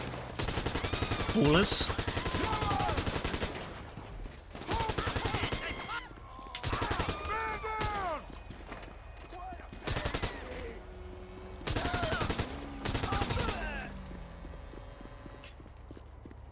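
Bursts of rapid automatic gunfire from a weapon in GTA Online, several loud volleys with short gaps, mixed with in-game sound effects and someone talking briefly between shots.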